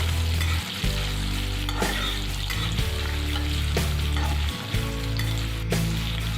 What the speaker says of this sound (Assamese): তেতিয়া মই পনীৰখিনি অলপমান ভাজি ল'ম